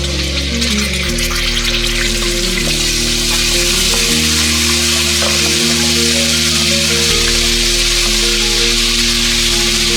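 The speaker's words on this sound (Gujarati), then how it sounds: "મીડિયમ ગેસ ઉપર એને થોડું ચટકવા દઈએ" Cumin, asafoetida and ginger-garlic paste with cloves and cinnamon crackling in hot oil over a medium flame for Kathiyawadi guvar masala, a loud, steady close-up sizzle over a low, constant stove hum.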